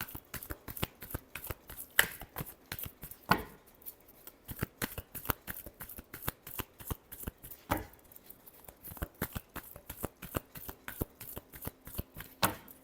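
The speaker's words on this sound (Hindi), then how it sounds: "Last shuffle." Tarot cards are shuffled over and over in a quick, crisp rhythm of riffles and taps, close up and alone, with no talking.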